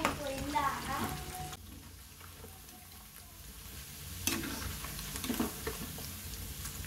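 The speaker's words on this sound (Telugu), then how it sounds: "ఆయిల్ బాగా వేడెక్కిందండి. ఇప్పుడు చికెన్ వేసుకోవాలి. చికెన్ అయితే వేసుకోవాలి. చికెన్ కలర్ మారేంత వరకు అటు ఇటు కలుపుతూ ఉండాలండి." Chicken sizzles in hot oil on a low flame while being stirred back and forth, a soft constant frying hiss with scraping strokes at the start and a few clinks later, heard close up.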